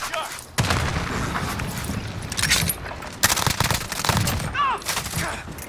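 Gunfire in a multiplayer shooter video game: loud rapid bursts and fusillades crackle close by, with shouting voices mixed in among the shots.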